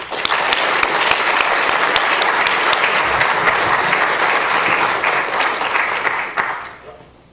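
A conference audience gives a dense, loud round of applause for the LCA organising team, steady for several seconds before tapering off and fading out at the end.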